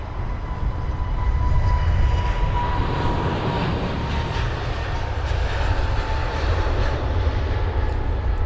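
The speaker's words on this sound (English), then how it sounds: "A cheeky A321neo has appeared out of nowhere and started departing." An Airbus A321neo jet airliner's engines roar steadily as it departs London Heathrow, a broad sustained rumble with a faint whining tone, fairly loud and without speech.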